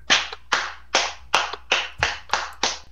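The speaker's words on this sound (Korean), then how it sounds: "큰 박수로 마주시기 바랍니다." Eight distinct bursts of hand clapping, spaced evenly about every half second, from an audience at a 2021 New Year rally welcoming a professor back to the stage. No voices are heard.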